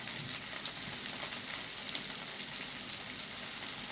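Grated ginger drops into hot oil with chopped tomato for a parshe fish masala curry, giving a soft, steady sizzle that runs evenly throughout at a faint level.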